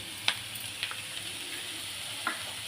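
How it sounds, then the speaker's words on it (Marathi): Chopped onion, tomato and ginger-garlic paste sautéing in a pan for corn pav bhaji, a soft steady sizzle with a few faint clinks of a spoon stirring, no talking. "आता हे सगळं आपल्याला 3 ते 4 मिनिटं परतून घ्यायचे"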